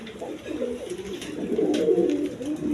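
A pair of Indian Bombay pigeons coo in soft, throaty rolling phrases, close and fairly loud, repeating over a few seconds with faint background noise.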